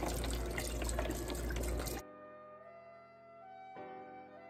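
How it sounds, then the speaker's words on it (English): Chicken broth pours into a cooking pot as a loud rushing splash for about two seconds, then cuts off and leaves quieter sloshing, dripping and settling liquid sounds. "I'm gonna add the rest of the chicken broth that I bought."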